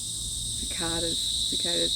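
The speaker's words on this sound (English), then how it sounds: "Listen to those cicadas." A high, continuous insect buzz of cicadas fills the background while a voice speaks briefly over it.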